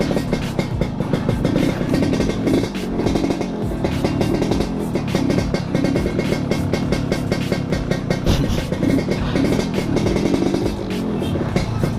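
Yamaha RX King two-stroke motorcycle on the move, its engine buzzing steadily and loudly throughout with a rapid pulsing beat and small shifts in revs, alone without talk.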